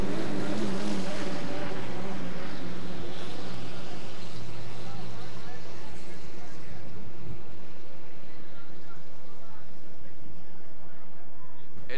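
Racing powerboats at the Valleyfield regatta, 2.5 litre class qualifying heat, with engines droning loudly at first and then fading into the distance, under a French announcer's commentary.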